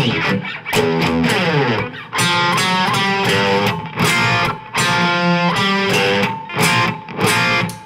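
A crunchy distorted electric guitar riff with punchy, rhythmic chord stabs and brief pauses, played loud and upfront with no talking.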